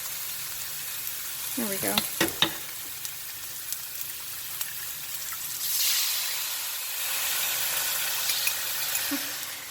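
Lo mein sizzles in an oiled pan with clinks of a utensil early on, then sauce goes in and the frying swells into a louder, broader hiss; a voice speaks briefly.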